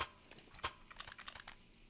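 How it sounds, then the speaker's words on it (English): Faint, continuous high-pitched cricket chirping in the background of a house, steady and quiet with a few soft taps and clicks scattered over it, no voices. "Why are there some crickets going on in the background?"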